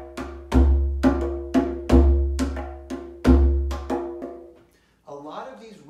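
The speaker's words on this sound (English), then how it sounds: "The first rhythm we're going to show to you is Aconcon." The Aconcon rhythm is played on drums: a repeating pattern of sharp pitched strikes with deep bass hits on alternating beats, loud and close, ending in a brief pause and a softer tonal sound.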